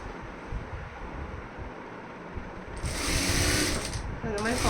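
A sewing machine runs steadily while stitching a fall onto a saree, a continuous close mechanical whir that speeds up and grows louder partway through, with a brief pause near the end before it picks up again.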